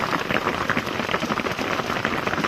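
Steady rain pattering on a paddy field, a dense continuous hiss of drops with no voices, close and fairly loud throughout.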